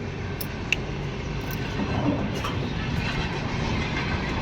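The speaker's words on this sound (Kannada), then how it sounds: "ಕೆಂಪು ಟ್ರೈನ್ ಹೊಂಟದ ನೋಡ್ರಿ ಬೆಳಿಗ್ಗೆ ಎದ್ದು" A red train passes, making a steady, moderately loud broadband rumble throughout with a few faint higher squeaks on top and no clear voices.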